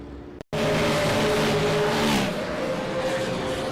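Race cars roar around an oval short track at a SARA national tour event in Milwaukee, a loud continuous engine drone with shifting revs from several cars close by, briefly cut by a silent gap near the start.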